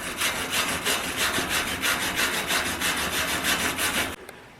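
Rough, rhythmic back-and-forth scrubbing on an aluminum bicycle frame weld, a steady rasping wire-brush sound repeating quickly for several seconds before stopping abruptly.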